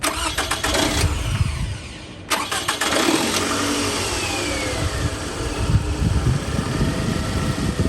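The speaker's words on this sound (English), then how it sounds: "the alternator is spinning" A 2007 Toyota Camry engine with a newly fitted alternator cranks and catches, then settles into a steady close idle with a brief rev, loud and without talk.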